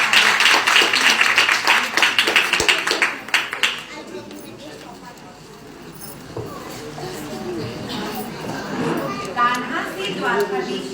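An audience claps through the opening seconds of a Gita Jayanti skit performance, dense applause that fades out by around four seconds, leaving quieter room sound and occasional voices.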